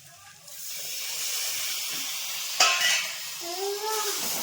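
Ground spinach paste sautéed in a pan with potatoes for a spinach bharta, giving a steady hiss and sizzle with scraping stirs and a sharp clatter partway through, close and moderately loud without speech.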